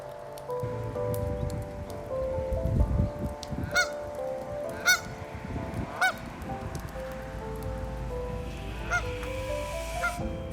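Several loud honks from ducks ring out at intervals over a steady patter of rain, with a low rumble beneath.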